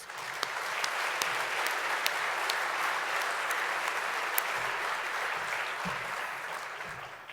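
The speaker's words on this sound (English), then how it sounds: "have a warm round of applause for all the contestants" A steady round of audience applause at a gala for prize contestants, moderately distant, with a few sharper individual claps standing out from the dense clapping.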